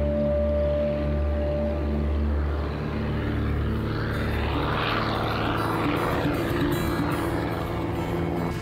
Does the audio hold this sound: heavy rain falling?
no